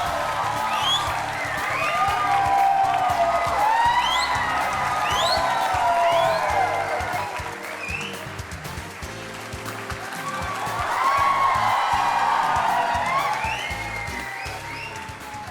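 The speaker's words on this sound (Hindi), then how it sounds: "और ये तालियां बजते रहे" Studio audience applauding and cheering as a guest singer, actor and politician is welcomed onto a televised courtroom-style talk show; dense, sustained clapping with whoops swells twice, loud and close throughout.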